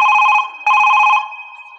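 A telephone rings loudly and close, two electronic trilling bursts separated by a brief pause, during a comic stage performance.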